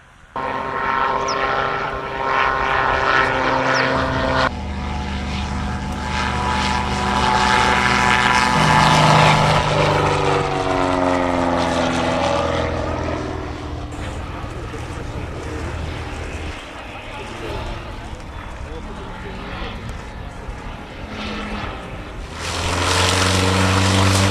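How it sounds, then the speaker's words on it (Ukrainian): Propeller planes fly over an air show near Zhytomyr, a steady loud engine drone with pitch sweeping as aircraft pass overhead, swelling and fading through the passes, with a new loud approach at the end. "Цілих дві години над головами глядачів кружляли літаки, автожири та гелікоптери."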